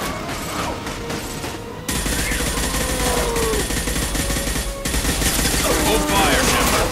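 Gunfire from the video game Mass Effect 2: dense, sustained automatic bursts and heavy impacts roar continuously over a loud, busy battle mix with no pauses.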